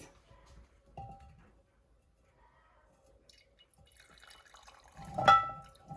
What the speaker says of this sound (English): I'm going to pour out my grease one last time.